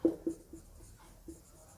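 A pen scratches out a few short strokes by hand in quiet, faint isolated scrapes and taps with gaps between them, with no one speaking.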